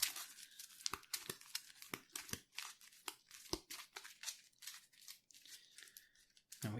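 Marvel Champions playing cards being shuffled in two decks, giving a run of quick papery riffles and crisp snaps that repeat irregularly, close and fairly quiet, with no voices.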